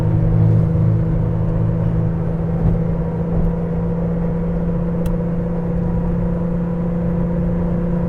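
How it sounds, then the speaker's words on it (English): A 1983 Porsche 911 with the 3.2 engine pulls uphill at half throttle, a steady droning engine note with road rumble heard from inside the car, loud and continuous. "Going up the hill, half throttle, gradually accelerating up to 80."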